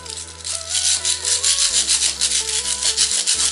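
Stiff plastic-bristled brush scrubbing dirt off a metal-plastic cross: loud, close, rhythmic rasping strokes repeating several times a second, with a faint background tone underneath and no speech.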